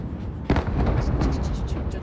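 Fireworks boom and crackle overhead at the Yokohama fireworks show, with repeated deep bursts and sparkling pops, while people chatter and exclaim nearby.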